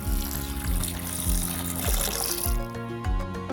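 Water is poured over soybeans in a bowl to soak them, a soft continuous trickle and splash heard under prominent background music with a thumping beat.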